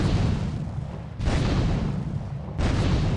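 Gunfire in Grand Theft Auto III, heavy booming shots that hit hard and ring out, roughly three blasts about a second and a half apart, loud and close.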